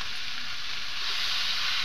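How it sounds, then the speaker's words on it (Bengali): Jackfruit curry with spices and yogurt sautéing in a pan gives a loud, continuous sizzle and hiss throughout, steady and close, with no voices. "এবারে আমি আর একটু কষিয়ে নেব।"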